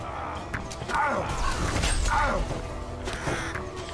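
Crows cawing in the video game Vikings: Wolves of Midgard, several harsh calls over busy game noise with mechanical clanks and thuds throughout.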